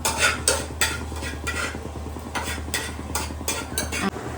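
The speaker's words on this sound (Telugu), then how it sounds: "దీన్ని అయితే మనం ఒక 1 minute అయితే ఫ్రై చేద్దాం" Garlic and sauce cooking in a home kitchen pan, with about nine distinct scraping strokes of a utensil stirring against the pan over a low, steady background hiss.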